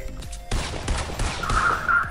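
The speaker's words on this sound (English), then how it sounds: "Someone's actually shooting at us" Gunfire in Fortnite: a burst of shots starting partway in, loud and close, mixed with game effects and a high ringing tone.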